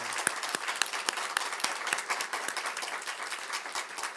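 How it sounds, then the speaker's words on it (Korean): A church congregation clapping during a Sunday service to welcome new members, a sustained, even patter of many hands at moderate loudness throughout. "격려 힘차게 박수하겠습니다."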